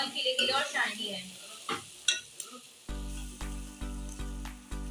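Ginger and garlic fry in a pot for beef white biryani, giving soft sizzling and scraping stir sounds. After about three seconds, a loud rhythmic musical beat takes over.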